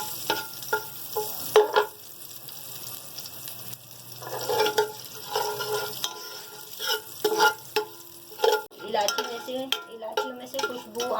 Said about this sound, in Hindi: सवैयों को मैं भून लूँगी, हल्का सा भून लूँगी।